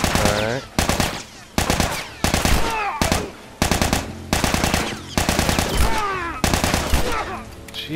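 Heavy gunfire in the video game The Last of Us, loud rapid bursts of shots repeating in chopped clusters with short gaps between volleys, close and dominant.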